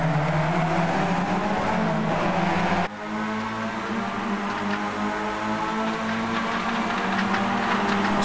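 Race cars launch at the start at Donington Park, a dense, steady engine drone from many cars at once that briefly dips near the three-second mark, then swells again as the field pulls away.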